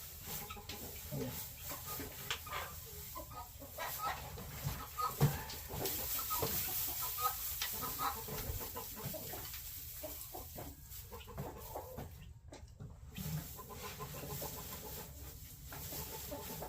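Chickens cluck softly and intermittently in a coop shared with ducks, with scattered short calls over a steady low background and no talk.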